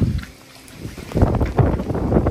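Strong wind gusts outdoors during a rainstorm buffet the microphone, a deep rumbling roar that dips briefly and then surges back louder in uneven waves.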